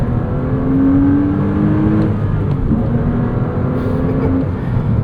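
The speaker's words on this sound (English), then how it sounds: "So easy to rev match, just such a good connected feel with this Cayman S" A Porsche Cayman S engine revving while driving, a loud, close in-car drone of sustained engine tone that climbs and holds through the clip, with faint tire and road noise underneath.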